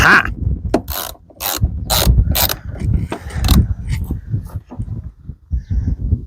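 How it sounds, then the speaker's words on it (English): A Craftsman ratchet wrench cranking on a 1984 Ford F150 while cleaning the heater core and fan system: loud, close bursts of rapid clicking pawl ratchets, stopping and starting in short strokes. "This is a pretty cool wrench. Craftsman."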